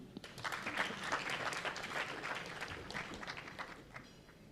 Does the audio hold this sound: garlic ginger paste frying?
no